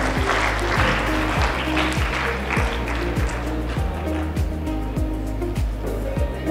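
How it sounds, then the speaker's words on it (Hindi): Audience applause fills the hall at a youth club event, a steady dense wash of clapping that holds loud throughout, with a low repeating hum running underneath. "आप सबकी भरपूर तालियों में"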